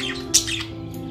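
Parrots and pigeons in and around a bird cage, with one short, sharp squawk rising briefly over a steady low hum of background noise.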